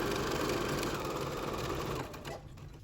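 A sewing machine stitching bias binding onto the edge of a fabric face mask, a fast, close, steady mechanical whir that slows and fades out near the end.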